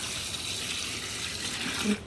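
Rice-washing water is poured into a container to make an oil-cake fertilizer solution, giving a steady, close liquid splash that runs unbroken for about two seconds with no talk over it.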